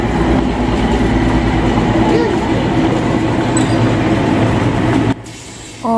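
A toy train runs along tracks on the road in front of a house in Siliguri, heard from a balcony: a loud, steady rumble with faint rail noise that cuts off sharply near the end.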